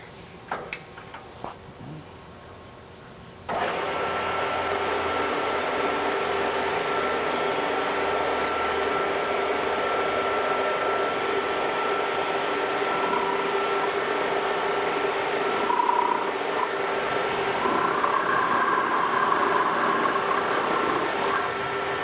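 A metal lathe turns a rifle bolt handle down to a true cylinder, a steady whirring machine hum with a faint cutting hiss running continuously after it starts up.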